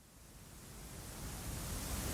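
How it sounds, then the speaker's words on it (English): Steady pink noise, a dense broadband hiss weighted toward the low end, plays alone and swells slightly louder toward the end. "There's also pink noise."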